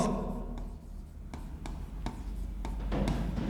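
Chalk or marker scratching across a classroom board in short strokes and taps, close and fairly clear over a faint room hum, with no speech.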